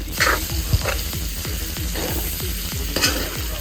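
Finely chopped onions sizzle in a big pan of oil for a large batch of squid roast, with steady scraping stirring strokes repeating about twice a second, close and continuous, with no voices.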